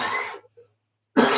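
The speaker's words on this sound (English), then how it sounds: "Sorry, I'm going to clear my throat." A man clears his throat once, a short rough burst between stretches of his talking, close and fairly loud.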